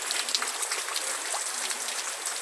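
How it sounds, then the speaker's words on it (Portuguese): Light rain falls in the Sertão countryside near Sobral, Ceará, a soft, steady patter of scattered drops with no voices. "Essa chuvinha parece que vai se demorar, viu?"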